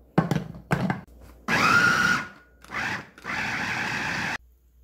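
Electric chopper mincing vegetables with king oyster mushroom for a shrimp vegetable porridge, running in several loud whirring bursts of one to two seconds separated by short pauses, preceded by a few clunks.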